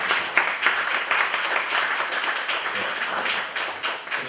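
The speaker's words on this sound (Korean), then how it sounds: "여러분들 환영 박수 한번" Audience applause welcoming guests at an academic lecture gathering, a dense steady wash of many hands clapping that carries on for several seconds with small swells, with some voices mixed in.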